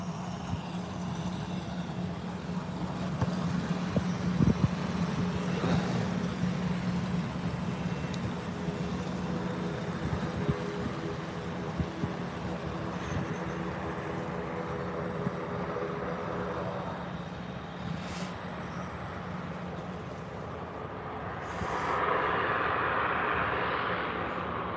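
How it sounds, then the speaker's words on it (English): An Embraer ERJ regional jet at Birmingham airport gives off a steady distant engine roar over low background rumble, rising slightly near the end. "Embraer ERJ."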